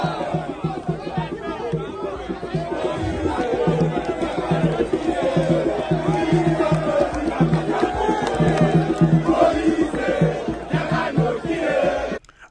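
Crowd noise at a political rally in Moanda, a dense steady roar of many voices with rhythmic chanting and shouts, loud and continuous, with no single voice standing out.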